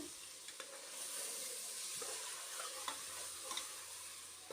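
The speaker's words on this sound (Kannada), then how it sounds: "2 ಆಲೂಗೆಡ್ಡೆ 2 ಬದನೆಕಾಯಿ ಹಾಕ್ಕೊಂಡಿದ್ದೀನಿ. ಸ್ವಲ್ಪ ಫ್ರೈ ಆಗಲಿ." Two potatoes and two brinjals fry in a pan, giving a faint continuous sizzling hiss with scattered soft ladle scrapes and taps, quiet and without speech.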